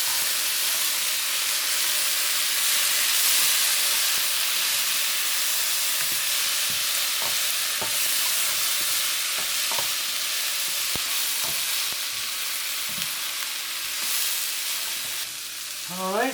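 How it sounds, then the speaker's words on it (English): Green beans stir-frying in a hot pan over medium heat, a loud, steady sizzle and hiss broken by light scraping clicks of stirring, with no talking. "Then you put the green beans in it."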